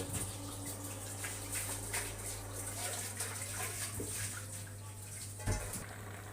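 Water running steadily from a flowing source, a constant rushing wash beneath a low steady hum, with a brief knock near the end and no talking.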